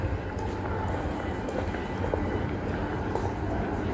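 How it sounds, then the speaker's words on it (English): A Melbourne suburban train bound for Blackburn via the city loop rumbles steadily nearby, a continuous low rail noise with faint clicks, and voices can be heard beneath it. "this is our train to Blackburn. It's going to go via the city loop."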